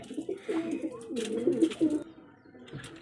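Pigeons in a coop where a hen sits on eggs beside a chick coo in deep, rolling bursts close by, several overlapping calls over a few seconds before they fade.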